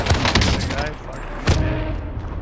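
Call of Duty gunfire, several close loud shots and bursts in quick succession with booming impacts, with a voice talking over the shooting.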